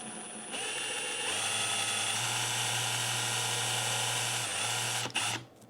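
Milwaukee M18 Fuel Surge hydraulic impact driver running on mode 1, a steady close whirring drone that holds for several seconds before cutting off.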